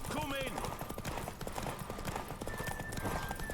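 Geralt's horse Roach gallops in The Witcher 3, with steady, rhythmic hoofbeats throughout, a brief whinny at the start, and someone talking over the running hooves.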